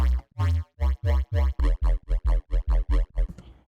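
Punchy Serum synth bass notes in a steady riddim rhythm, each note repeating into a tight, tempo-locked feedback delay tail that thins out at the end.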